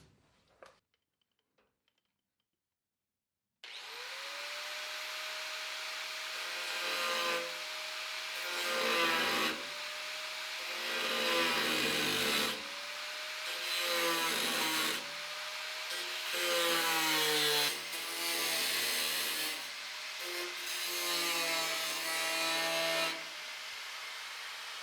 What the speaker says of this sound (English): let's get to the main event, and that is hacking this metal out.